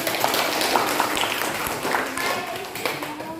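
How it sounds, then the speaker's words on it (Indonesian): A classroom of students claps together in a short burst of applause, brisk and somewhat scattered, with voices talking over and around the clapping. "Iya, tepuk tangan."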